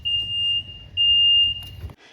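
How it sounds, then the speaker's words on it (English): Ryobi electric zero-turn riding mower's seat safety alarm sounding two loud, piercing steady electronic beeps of about half a second each, close, over a low background rumble. "it gives this really loud beeping for all the neighbors to see"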